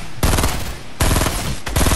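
Gunfire from a weapon in Fortnite Battle Royale, three loud bursts of rapid automatic shots in quick succession, close and dominant with no talk over them.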